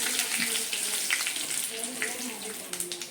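Urad dal, chana dal, dried red chillies and curry leaves frying in hot oil with cumin and mustard seeds, a steady close sizzle with small pops and crackles throughout.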